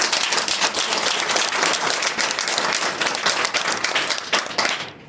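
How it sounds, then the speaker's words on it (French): A church congregation applauds during a pastor's birthday service, with dense, continuous clapping from a crowd that stays loud and even before dropping off abruptly at the end. "On nous applaudit le Seigneur aussi."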